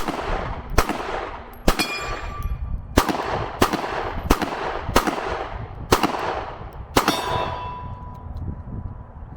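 Sig Sauer P320 M18 pistol fired outdoors, about nine sharp loud shots at a steady pace roughly one per second, each ringing with metallic clangs from steel targets, with no talking.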